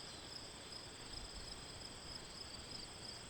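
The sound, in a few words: crickets chirping in backyard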